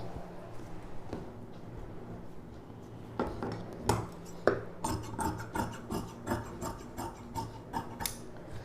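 Scissors cut through skirt fabric close up, with a run of rhythmic snips and rasping strokes that grow steadier in the second half, over faint room noise.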